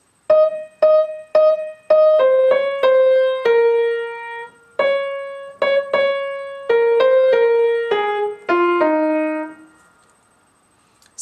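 Piano plays the second verse phrase of a song, a clear run of repeated arpeggiated notes with short gaps between groups, close and alone, each note ringing briefly before the next.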